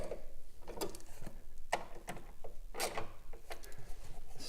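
Bolts holding down the airbox on a BMW 328i E90 with the N52 engine being snugged down by hand tool, giving a series of short metallic clicks and ratcheting ticks with small clanks, close and moderately quiet, no talk.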